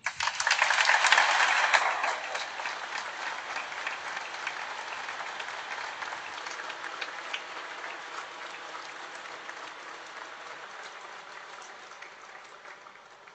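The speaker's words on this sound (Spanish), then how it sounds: "Te regalamos un aplauso." Congregation applauding during a Mass in a cathedral basilica, a broad wash of clapping that peaks early, then fades slowly and evenly over many seconds in a reverberant space.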